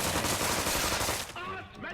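Rapid automatic gunfire from the South Park: The Stick of Truth video game, a dense, loud burst of shots rattling steadily before cutting off and giving way to quieter game sounds.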